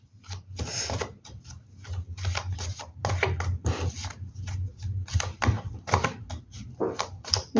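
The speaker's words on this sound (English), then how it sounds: "I shuffle a lot, so that's just my way of doing this" Deck of cards being shuffled by hand, with quick riffling bursts and soft taps that repeat irregularly, close and fairly quiet, with no talking.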